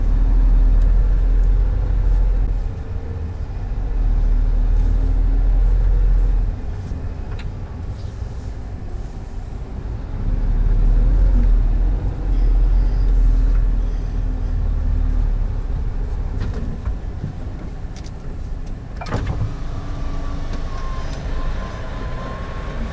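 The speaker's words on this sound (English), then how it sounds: "Sounds like a train sometimes, these brakes, or whatever they are." A loud, steady Scania G480 truck engine rumble with a long trailer continues throughout, with occasional high squealing brake whines rising above the drone, heard close and with no speech.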